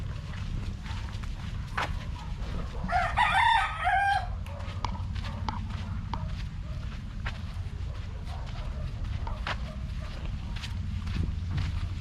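A rooster crows loudly once in Costa Rica in the morning, a long strained call rising and falling, amid steady outdoor background noise with scattered faint knocks and clucks.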